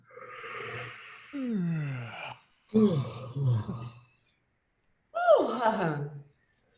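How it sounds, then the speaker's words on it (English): Several long, drawn-out yawns from audience members at a talk, with sighing, voiced exhalations following one another, separated by brief silences. "the sound of each other yawning will give us actual real yawns"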